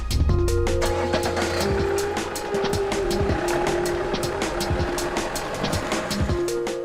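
A recovered car pulls away fast from a scene, engine note rising and shifting through gears with rattling, clattering noise close by and no talk over it.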